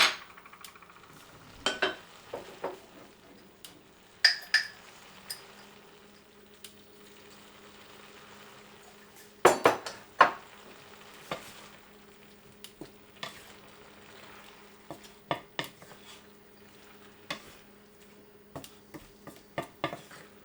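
Squid and pineapple stir-frying in a pan, with a steady low sizzle throughout, broken by scattered sharp clicks and scrapes of a utensil stirring against the pan and a few louder clattering bursts near the middle.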